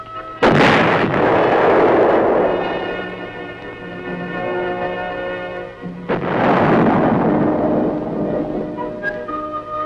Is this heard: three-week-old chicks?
no